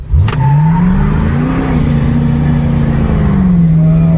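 Ford Mustang pulling away from a standing start, engine note rising and holding steady as it accelerates, loud and close, with no talking.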